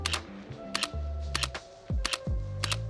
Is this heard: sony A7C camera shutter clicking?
yes